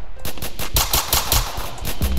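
Rapid bursts of automatic gunfire in the Roblox game South Bronx The Trenches, loud and close, firing in a fast steady rhythm for a couple of seconds with no talking.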